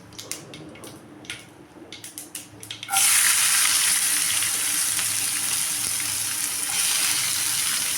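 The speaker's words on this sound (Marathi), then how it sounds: "आता आपण यामध्ये कांदा टाकणार आहोत" Chopped onion dropped into hot oil already crackling with cumin and mustard seeds: light scattered pops and taps, then a sudden loud burst of sustained sizzling.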